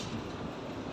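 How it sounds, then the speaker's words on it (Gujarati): A passenger train on the Bhavnagar to Junagadh line runs at around 90 to 110 km/h, giving a steady, dense rumble of wheels and carriage noise that fills the whole second. "તો આ ટ્રેન મસ્ત એની સ્પીડ ઉપર 110 90 આજુબાજુ હાલે છે"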